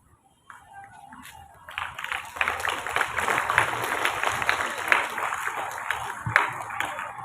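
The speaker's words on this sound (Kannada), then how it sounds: "ಒಂದು ಜೋರಾದ ಚಪ್ಪಾಳೆ." A college audience at an International Yoga Day event bursts into loud, sustained applause after a short quiet start, with many hands clapping together.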